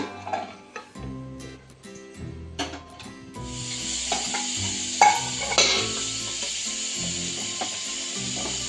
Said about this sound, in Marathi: मसाल्यामध्ये छान वापरून घेऊया आपण.